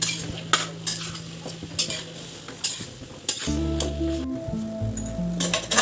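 Mashed potato stuffing for dosa being stirred and mixed in a pan, with a spoon scraping and clinking against the metal several times, close and moderately loud, and no one talking.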